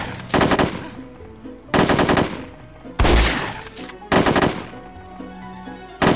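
Repeated bursts of rapid automatic gunfire in the video game No One Lives Forever 2, four loud sustained volleys separated by brief pauses, close and dominant with no talk over them.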